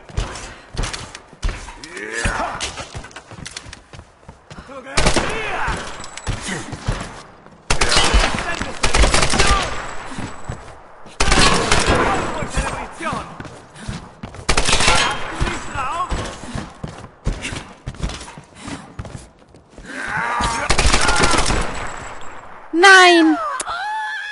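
Gunfire in the video game Tomb Raider (2013), repeated bursts of rapid shots in several loud clusters separated by short pauses, with a person talking in between.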